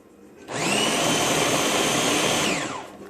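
A food processor whirs steadily for about two seconds, chopping vegetables with beef bouillon into a puree. The motor starts abruptly, holds a loud, even whine, then winds down, with no voices over it.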